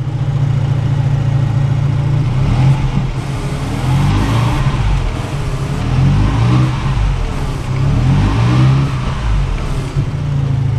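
A 1985 Mazda RX7 GSL-SE rotary engine idling low after a cold start, a loud, close, steady drone with a gently wavering pitch and slight periodic swells, no voices.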